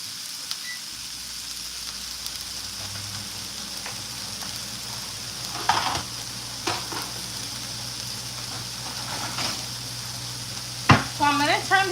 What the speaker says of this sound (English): then I'll flip the rice over and I let it stay on low fire